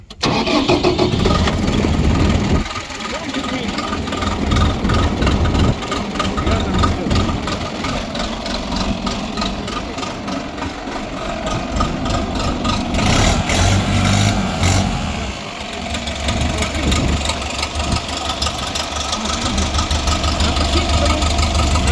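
A tractor engine cranks and catches on a weak battery, then settles into a steady, rough, knocking idle that runs continuously, loud and close throughout.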